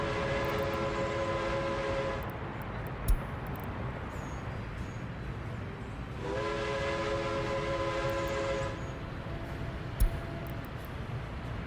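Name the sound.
construction train in video game Workers and Resources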